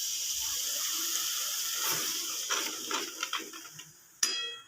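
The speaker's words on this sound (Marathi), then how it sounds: "हे पाणी सोडून घेतो थोडं" Water poured into a pan of cooking cashew curry masala, a steady hissing pour with a few clinks near the end.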